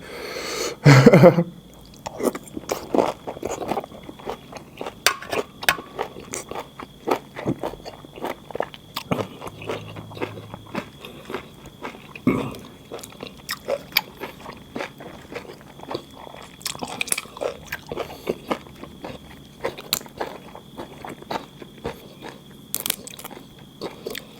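Crispy food, crunchy outside and soft inside, bitten and chewed close to the mic, with a loud bite at the start and then steady irregular crunching and wet chewing.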